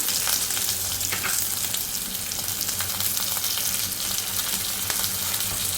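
Asafoetida and curry leaves hiss in hot oil over lowered heat, making a dense, loud, continuous sizzle with faint stirring. It runs unbroken from start to finish with no voices.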